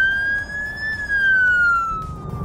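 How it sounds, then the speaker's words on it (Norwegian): An emergency vehicle siren wails loud and close on a Norwegian road. It sounds as one clear, drawn-out tone that rises slightly, then slowly falls, with road noise underneath. "Han ser meg ikke, da prøver jeg sirena."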